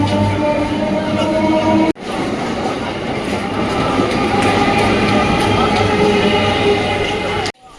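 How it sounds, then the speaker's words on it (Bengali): A local train bound for Sealdah pulls out of a busy station, its loud, continuous rumble and rattling wheels dominating close by, with a crowd faintly beneath. "এখন একটা লোকাল ট্রেন এখন শিয়ালদার দিকে রওনা দিয়েছে"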